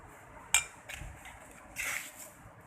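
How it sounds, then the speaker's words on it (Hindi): Spoon scraping and clinking against a pan while sugar is stirred into malida, a sweet crumbled-flatbread dish, with a sharp clink near the start and a longer scraping swirl later; close and fairly quiet. "अब जो है इसमें डालेंगे चीनी, इसको भी मिक्स करेंगे"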